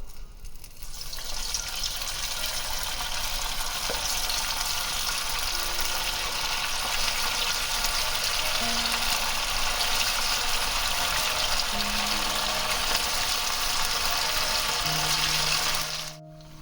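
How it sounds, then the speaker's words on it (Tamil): Sabudana vada fry in hot oil in a pan, a steady close hiss that runs unbroken for over fifteen seconds with faint tonal hums underneath, then cuts off abruptly; nobody speaks. "இந்த அளவுக்கு நல்லா சூடானதுக்கப்புறமா நம்ம ரெடி பண்ணி வச்சுருக்கிற இந்த பேட்டி எல்லாத்தையும் போட்டு வடை செய்யலாம்"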